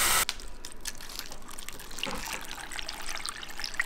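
Tap water from a well pours steadily into an Instant Pot holding frozen bones, a continuous splashing trickle filling the pot throughout with no speech over it.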